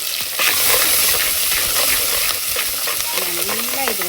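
Curry leaves crackle and sizzle steadily in hot oil as the base for a Koduva fish curry, with a constant bright frying hiss and stirring throughout, close and fairly loud.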